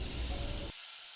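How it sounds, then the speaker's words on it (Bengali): Water poured into a pan of frying turmeric and chili spice paste for eggplant paturi bursts into a loud, hissing sizzle that cuts off sharply after well under a second. "হলুদ মরিচ দেওয়া হয়ে গেলে একটু নেড়ে তাতে দিয়ে দেব জল, যাতে মশলাটা পুড়ে না যায়"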